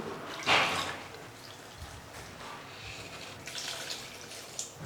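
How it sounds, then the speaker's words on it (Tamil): Water is poured into a pan of egg gravy masala, giving a short splashing burst followed by softer trickling and bubbling, close by and moderately quiet. "இப்போ இதில் தண்ணி சேர்த்துடலாம்"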